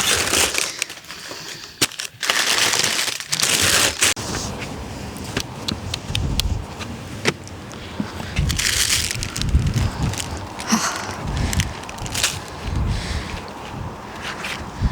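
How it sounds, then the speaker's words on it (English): Heavy wind buffeting a microphone with a fluffy windscreen, outdoors in November, with loud low rumbling gusts and crackly thumps that continue throughout, with no voices. "It's quite windy today, hence I've got the floofy cover on the microphone"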